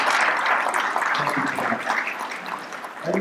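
Audience applause for county commissioners at a public meeting, a dense burst of clapping that continues steadily from start to end and tapers only slightly.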